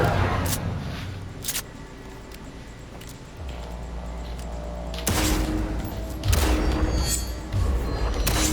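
Pistol shots ring out at target practice in Cyberpunk 2077, a series of sharp, loud reports spaced irregularly, some in quick pairs, over a low game background hum.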